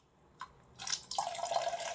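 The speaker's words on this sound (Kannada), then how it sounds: "ನಾನು 1-2 ಗ್ಲಾಸಷ್ಟು ಮಾತ್ರ ನೀರು ಹಾಕ್ಕೋತಾ ಇದ್ದೀನಿ" Water splashes as it is poured into a pot of tamarind sambar, a faint drip, then a steady splashing stream, close and alone.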